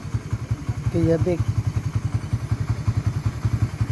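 A carbureted Suzuki Raider 150 motorcycle idles close by with a steady, rapid pulsing throb, while someone speaks briefly over the engine.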